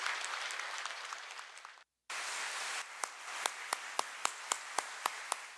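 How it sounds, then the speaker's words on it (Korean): A church congregation at a Korean-language Wednesday worship service applauds warmly, dense clapping that breaks off briefly, resumes, then thins into a handful of separate, spaced claps near the end. "감사와 격려의 박수를 보내주시기 바랍니다."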